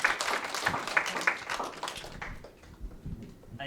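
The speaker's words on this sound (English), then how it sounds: "Let's have a nice round of applause for perseverance." Audience applause for the 2008 U.S. Men's Olympic team, a crowd clapping steadily for a few seconds before thinning out and fading toward the end.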